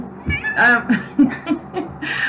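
A cat meows several times in a row, close and fairly loud, with drawn-out, wavering cries and short pauses between them.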